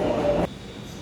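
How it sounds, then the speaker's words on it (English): A New York City subway train rumbles close by with a dense, loud roar and a faint squeal, then cuts off abruptly partway through, leaving quieter background noise. "This city's subway runs 365 days a year, 24 hours a"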